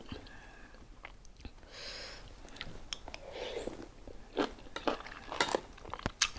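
Crunchy chewing of a spicy squid tentacle salad with crisp vegetables, close and quiet, with irregular crisp bites and a few sharper crunches toward the end, no talking.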